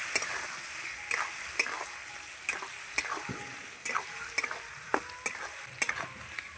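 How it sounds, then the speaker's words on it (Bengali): Potatoes being sautéed with turmeric, spices and Kashmiri chili powder in a pan, with repeated sharp scraping stirs of a spatula every second or so over a faint, steady sizzle. "ভালো করে আলুর সঙ্গে মশলা কষিয়ে নিয়েছি"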